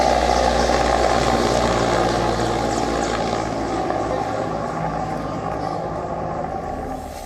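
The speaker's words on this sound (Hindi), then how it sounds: "ये तस्वीर जनरल बिपिन रावत को ले जा रहे हेलीकॉप्टर की है।" An Indian military helicopter carrying General Bipin Rawat flies through the misty Nilgiri hills, its rotor and engine making a steady, loud drone that fades slightly over time.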